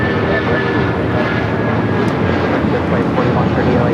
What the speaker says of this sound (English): This is United Airlines 2667 taking off to Washington Dulles on the 757-200